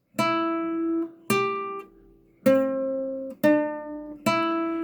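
Single guitar notes from the closing phrase of Jingle Bells, ending on the open first string, are plucked one at a time with short ringing gaps, clear and close with no voice.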